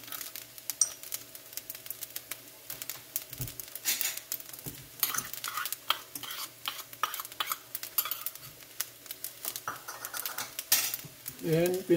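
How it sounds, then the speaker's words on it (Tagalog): Beef tapa with green peas and sliced carrots is stirred in a sizzling pan, the utensil scraping and clattering against metal in irregular bursts under a soft frying hiss, and a voice speaks briefly near the end. "And haluin uli natin"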